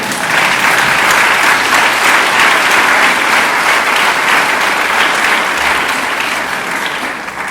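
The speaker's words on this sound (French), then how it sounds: "Je vous demande donc de bien vouloir applaudir" A conference audience applauds in a loud, sustained ovation that holds steady for several seconds and eases slightly toward the end, dense and continuous with no voices standing out.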